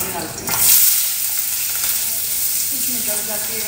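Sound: asafoetida added to cumin, sizzling in hot oil

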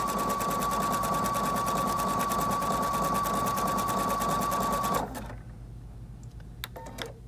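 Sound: Viking Brilliance 80 sewing machine stitching a zigzag stitch

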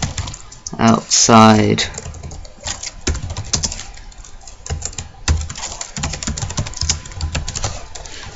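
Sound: typing on a computer keyboard

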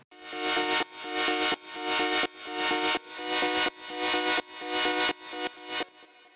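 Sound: music track with sidechain compressor enabled

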